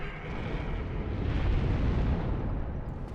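A Hellkite dragon in a video game returns to its perch with a heavy, rumbling whoosh and roar, a dense low-heavy blast that swells and then holds steady for a few seconds.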